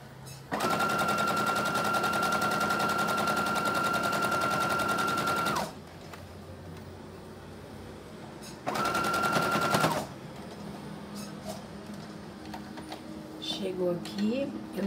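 A sewing machine stitches a finishing seam with a backstitch, running in a long, steady burst of about five seconds, then a second, shorter run after a pause, close and loud, with faint talk in the gaps.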